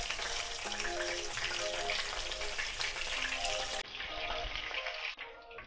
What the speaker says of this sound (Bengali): এবারে বাকি 2 মাছও ভেজে নিচ্ছি একইভাবে।